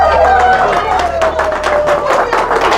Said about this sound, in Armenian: ծափերը